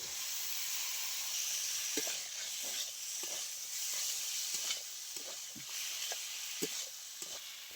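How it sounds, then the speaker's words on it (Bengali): Chopped bottle gourd stems and ridge gourd sizzle in a pan of spices with a splash of water, a soft, constant hiss broken by scattered scrapes and taps of stirring. "এবার আমি সবজিটা দিয়ে দিচ্ছি মশলার মধ্যে।"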